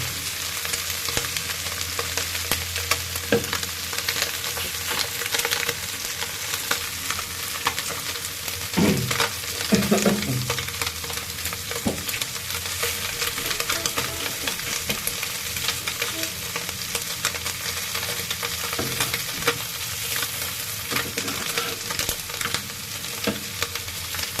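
Puti fish crisp-frying in a pan gives a steady, dense sizzle throughout, broken by a few louder spatters and stirring knocks around the middle, with no voices.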